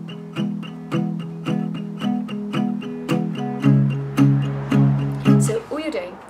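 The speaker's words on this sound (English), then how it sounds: "all he does is he palm mutes and he down strums" Acoustic guitar played with palm-muted down strums in an even, steady rhythm of short damped chords, close and moderately loud, with no talk until a faint brief sound at the end.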